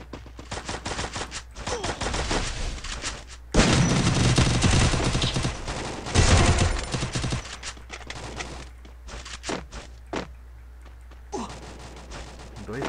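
Rapid bursts of gunfire rattle in clusters, with heavier sustained volleys midway and scattered sharp single shots toward the end, no clear talking.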